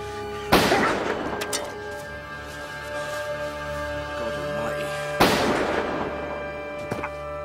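Two loud, sharp gunshots several seconds apart, each with a booming, ringing tail, set against a sustained tonal musical backdrop.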